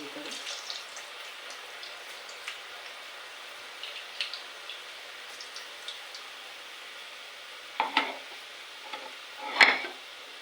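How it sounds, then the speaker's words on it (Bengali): Pitha frying in oil in a pan over low heat, a faint steady sizzle with soft crackles throughout and a few louder spatters or stirring clinks near the end. "আঁচটা ছোটো করে ভাজবেন, তাহলে পিঠাটা ভালো করে সিদ্ধ হবে ভিতরে।"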